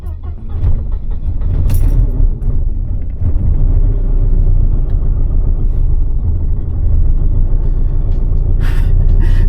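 Supercharged Mercedes 190E engine pulling hard on a test drive, a loud, steady, close rumble that holds for the whole stretch with faint cabin noise over it.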